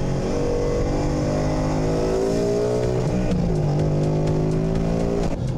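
Ford Mustang GT V8 engine revving hard and close, the tone climbing through a gear then dipping and rising again in a continuous loud roar.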